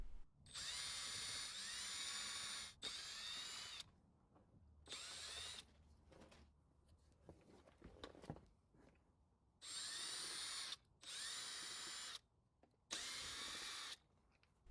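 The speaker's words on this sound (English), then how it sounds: "I would recommend using a power tool to help remove all the fasteners" A power tool drives out the fasteners from the lower housing of a heavy handheld Weedeater leaf blower, giving several loud whirring bursts of a few seconds each, separated by quieter pauses with faint handling noises.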